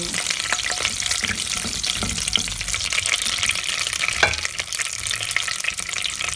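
Cardamom seeds frying in hot desi ghee for carrot halwa give a steady, close sizzle with a few stirring scrapes throughout.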